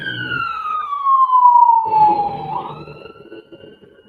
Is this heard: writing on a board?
no